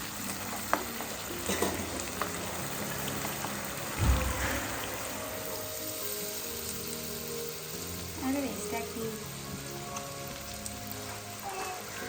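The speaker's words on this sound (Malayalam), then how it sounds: "ബട്ടറിൽ തന്നെ ഫ്രൈ ചെയ്തെടുത്താൽ മതി" Chicken frying in butter in a pan for a creamy samosa filling, a steady soft sizzle with scattered crackles and one knock of the pan, close, with murmured talk in the background.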